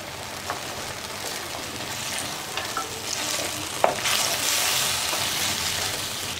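Chicken fries in oil with ginger garlic paste, giving a steady loud sizzle and hiss with occasional stirring clinks and scrapes against the pan.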